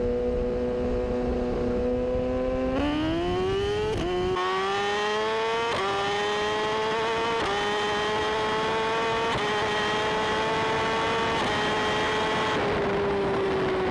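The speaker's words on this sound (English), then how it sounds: "1300 horsepower GTR versus me on my S1000 back in 2015" A 1300 horsepower GTR racing against an S1000 motorcycle, engines climbing in pitch through repeated gear shifts, each upshift dropping the whine before it rises again, loud and close with wind rush and no talk.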